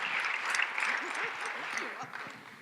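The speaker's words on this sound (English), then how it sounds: "let's give a big cheer for Asa" Audience at an Ignite Denver speed-round event cheers and applauds in a steady, dense wash of clapping, with voices calling out over it throughout.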